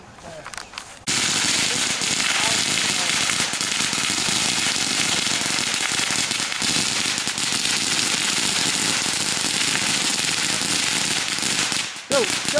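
Backyard July 4th fireworks and firecrackers bursting in a dense, continuous barrage of loud crackling pops and bangs for about twelve seconds, close by.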